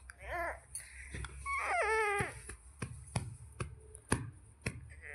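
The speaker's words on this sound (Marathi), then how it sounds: "बगलेचा भाग मी कट करून घेत आहे." Scissors cut the armhole of blouse fabric with a handful of crisp, evenly spaced snips close by. Earlier, a young child's whimpering cry sounds in the background.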